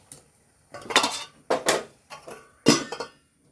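A lid goes onto a cooking pot with three sharp metallic clanks and rattles, close and loud, with short silent gaps between them.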